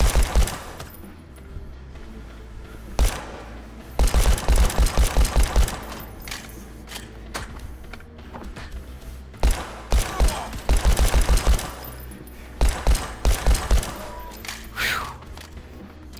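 Bursts of rapid gunfire from mag dumping in the VR shooter Hard Bullet, loud clustered volleys of shots with short pauses between them, repeating across the stretch.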